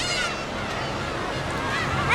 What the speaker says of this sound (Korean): 독도는 괭이갈매기의 땅이다